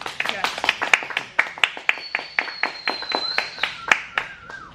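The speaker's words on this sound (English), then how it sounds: "Can we all give a round of applause for Andrew?" A small group claps together for a man at a free-play arcade gathering, a loose round of distinct, close hand claps lasting a few seconds, with a faint whistle-like tone running behind them.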